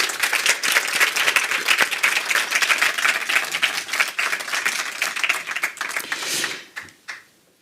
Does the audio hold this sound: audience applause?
yes